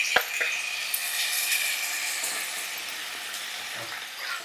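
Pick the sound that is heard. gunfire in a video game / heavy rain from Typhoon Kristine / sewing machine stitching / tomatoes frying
tomatoes frying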